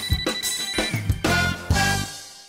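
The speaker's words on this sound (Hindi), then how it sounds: "फोन की घंटी बजते ही लकी को वहाँ से निकलने का मौका मिल गया" A telephone bell rings in three bright, loud bursts separated by short pauses, clear and close, with no voices over it.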